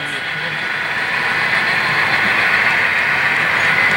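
A model railroad grain train runs on a club layout while it stops to drop cars. A steady, fairly loud mechanical hum and rumble carries all the way through, with people's voices mixed in.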